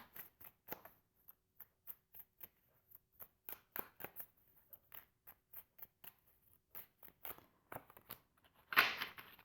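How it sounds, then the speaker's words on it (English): Tarot cards pulled from a deck, heard as soft, close papery flicks and taps in an uneven run, with a louder shuffling rustle near the end and no voices. "let's pull some cards on the Seven of Swords as the outcome"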